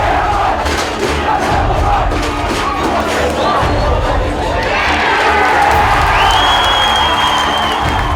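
A home crowd at a rugby game roars and cheers continuously, loud and dense with shouts and whoops, building near the end as the match opens at a fast pace.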